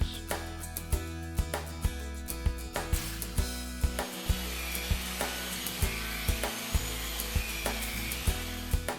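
A wet grinder polishing concrete with a 150 grit yellow polishing wheel, a steady droning hum with regular clicking knocks repeating about every half second, moderately quiet and continuous; no talking.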